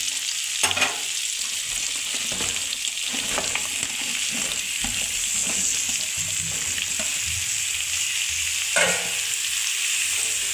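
Ridge gourd frying in a pan for a Bengali ridge gourd and poppy seed dish with sweet potato, as bay leaf and chilli sizzle, a steady loud hiss broken by scraping stirs and a few sharper clinks of the spoon.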